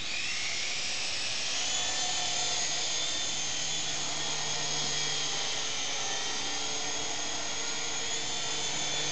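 A small Syma S108G Cobra remote-control helicopter hovers steadily close by. Its high-pitched electric motor and rotor whine stays constant and loud throughout, with no speech over it.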